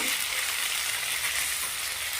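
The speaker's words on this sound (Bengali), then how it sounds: "হলুদ, লঙ্কা গুঁড়ো, ধনে গুঁড়ো যেমন দাও, গোটা গরম মশলা, অল্প একটু নুন, সব দিয়ে এটাকে ভালো করে কষে নিয়ে" Ground turmeric, chili powder, coriander powder, whole garam masala and a little salt fry in a pan, giving a steady, close, broadband sizzle throughout with no talking.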